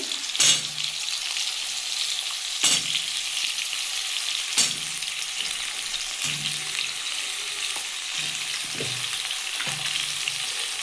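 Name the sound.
potatoes and tomatoes frying in a pan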